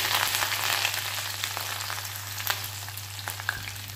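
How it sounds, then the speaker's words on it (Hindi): Steady sizzling of garlic and green chillies sautéing in hot oil over high flame, close and continuous, with faint stirring clicks now and then. "अब इसे सिर्फ आधे मिनट के लिए अच्छे तरीके से सॉटे कर लेंगे"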